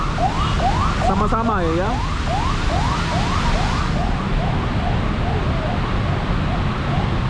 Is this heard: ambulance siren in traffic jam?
yes